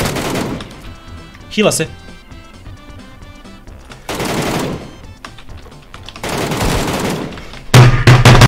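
Gunfire in the video game PUBG, including an MK14 rifle, comes as loud rapid bursts of shots separated by quieter gaps, with players talking between volleys.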